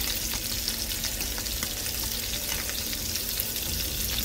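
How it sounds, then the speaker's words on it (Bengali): Chapila fish frying in hot oil for a mustard seed recipe, giving a steady, dense sizzle that runs close and even throughout with no voices. "তো এখন আমার মাছগুলো ভাজা হয়ে গেছে, এখন আমি মাছগুলোকে উঠিয়ে নিচ্ছি।"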